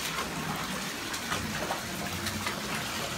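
Steady rush of bath water, with light splashing while a puppy is washed in the tub, continuous and close with no talk.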